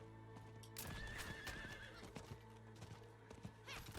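A mounted horse in Diablo 4 clip-clops along in rapid hoofbeats and lets out a clear whinny partway through, game audio alone with no one talking.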